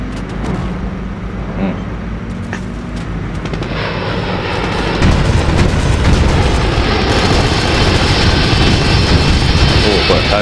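A warplane roars overhead in the Company of Heroes battle game. Its engine drone swells sharply about halfway through and stays loud and close over a rumbling battlefield background.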